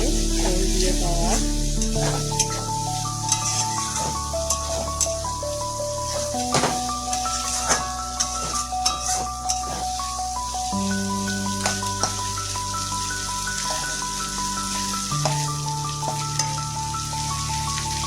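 Spice paste frying in oil for a rohu fish curry, a loud continuous sizzle and crackle with scraping stirring strokes throughout, no voices.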